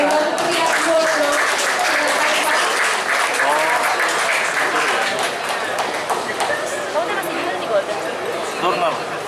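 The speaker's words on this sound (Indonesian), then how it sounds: "Boleh tepuk tangannya untuk Pak Bambang Priatmono." An audience at an inspiring-talk event applauds the moderator with steady, moderately loud clapping, while voices talk over it in the background.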